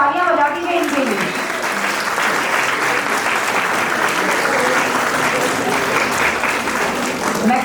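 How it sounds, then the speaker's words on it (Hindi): At a play school annual day event, a crowd of parents claps for two young all-rounder prize winners, a loud continuous wash of applause under an amplified voice speaking over it near the start. "ये duo all-rounder है, तालियां बजा दीजिए इनके लिए।"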